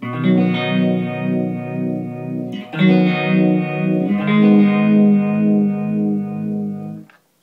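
Sustained electric guitar chords swirl through an Electro-Harmonix Small Stone phaser at low speed, a slow, gentle sweep, played loud and close, changing chords twice before stopping abruptly.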